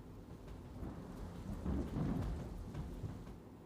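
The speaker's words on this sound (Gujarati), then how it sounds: "દક્ષિણ ગુજરાતમાં ધોધમાર વરસાદ" Heavy monsoon rain pours down in Navsari district, South Gujarat, as a low thunder rumble swells through the middle and then eases back into a steady, fairly faint wash of rain.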